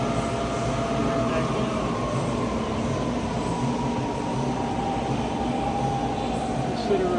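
A 2009 Bridgeport Hardinge Series 1 vertical milling machine spindle spinning at about 3,000 RPM gives a loud, continuous whirring hum with a faint high whine, steady throughout and heard close.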